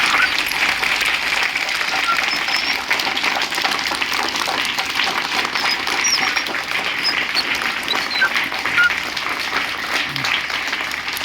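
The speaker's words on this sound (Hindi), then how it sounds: "तो जोरदार तालियां बजा दीजिए।" Applause from an audience at a classroom or school gathering, rising on cue, with steady dense clapping that fills the whole stretch at an even, fairly loud level and a faint chatter of voices mixed in.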